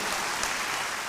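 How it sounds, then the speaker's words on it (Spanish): A church congregation applauds the Lord together, a dense, continuous wash of clapping that fills the room evenly and loudly without a pause. "Demos un fuerte aplauso al Señor"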